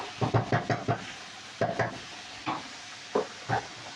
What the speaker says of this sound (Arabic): هحط عليه شويه كريمه